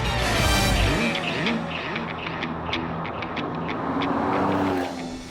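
Porsche 911 GTS sports car driving on a road, a steady engine note with gear changes and shifting pitch, fairly loud and continuous.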